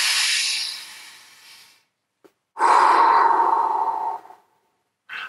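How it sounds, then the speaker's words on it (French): A deep breath drawn in slowly and released in a long, steady exhale, close and breathy, with a short pause between the two and a brief intake starting again at the end. "je t'invite à prendre une grande respiration."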